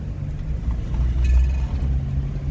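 A Subaru Sambar kei truck engine with a carburetor fault runs with a steady low drone and a slight swell as it bogs, heard close from inside the vehicle.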